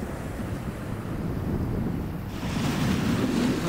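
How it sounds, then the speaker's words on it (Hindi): Sea waves washing onto the shore at Porbandar beach in India, a continuous loud rush of surf close by with strong wind buffeting the microphone, swelling louder partway through. "यहाँ से समुद्र का पानी आया आया आया"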